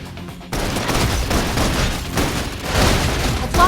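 Suppression gunfire in the video game Love and Deepspace: a dense, continuous fusillade of rapid shots with heavy booming underneath, starting abruptly after a brief quiet moment and staying loud to the end.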